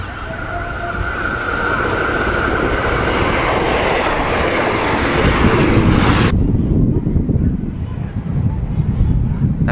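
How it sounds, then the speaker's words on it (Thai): A passenger train, number 301, rolls into Ban Ma railway station in Thailand, a loud, close rumble with clattering wheels and a fading high whine. "เดี๋ยวคิดว่าขบวน 301 เนี่ยน่าจะมาต่อ ได้ยินเสียงมาแล้วนะครับ"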